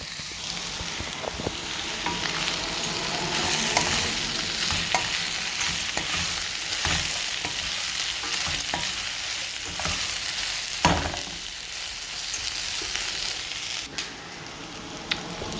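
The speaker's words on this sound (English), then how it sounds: "And give that a stir." Vegetables frying in oil in a pan for salt and chilli pepper chips, a continuous close sizzle with scattered clicks and scrapes from stirring, steady throughout with no talking.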